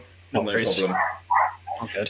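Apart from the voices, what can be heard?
dog barking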